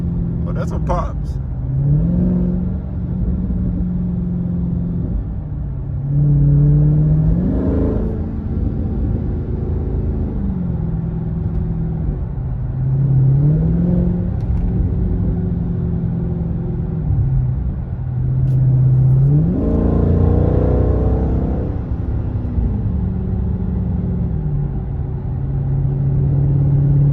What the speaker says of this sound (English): I'm cruising at 60 right now, and there's not much sound inside the cabin. You can hear a little bit of pops here and there